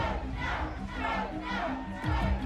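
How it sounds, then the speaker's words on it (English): A crowd of striking workers at a labour riot shouts and roars together, a dense wall of angry yelling voices that swells and carries on through the whole moment. "Douglas watches as the crowd gets increasingly unruly."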